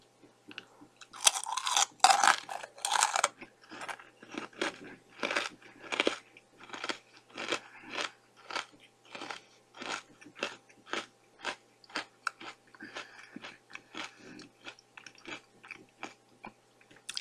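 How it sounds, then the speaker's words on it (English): A crunchy fancy fortune cookie eaten whole: close, crisp bites followed by a long, steady run of crunching chews with short pauses between them, and no talking. "I always eat the whole cookie before I"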